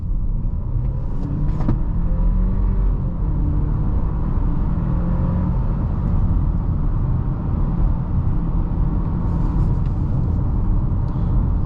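Full-throttle acceleration in a 2022 Audi A5 Sportback 40 Premium Plus with 201 horsepower, heard from inside the cabin on the road: a steady, loud engine drone and road rumble that rises in pitch and holds throughout.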